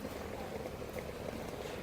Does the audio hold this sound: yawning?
no